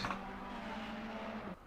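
A GT3 race car engine in Assetto Corsa Competizione at Zolder holds a steady droning note for over a second, then cuts off abruptly, with no talk over it.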